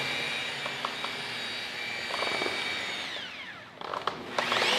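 A handheld polisher runs steadily at its lowest speed, spreading compound across a faded, yellowed, oxidized car headlight, with a continuous whine that dips and shifts near the end.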